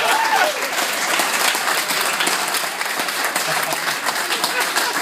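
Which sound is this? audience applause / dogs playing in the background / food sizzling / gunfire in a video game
audience applause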